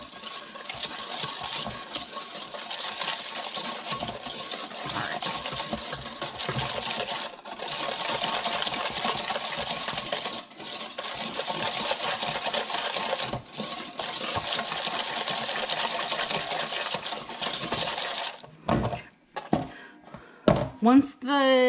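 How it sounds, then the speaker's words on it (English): Egg yolks and sugar are whisked together in a bowl for crème brûlée, a fast continuous metallic clatter of whisk against the bowl running close and steady, ending in a few separate knocks. "We're just gonna whisk that together."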